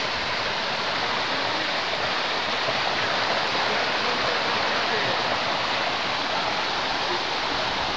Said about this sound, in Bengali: আওয়াজ কত সুন্দর আসছে ঝর্ণাটা